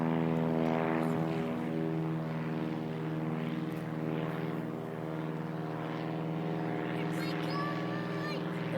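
A propeller airplane flies a banner pickup pass, its engine a loud steady droning buzz with strong harmonics that holds close and constant, the pitch shifting slightly near the end.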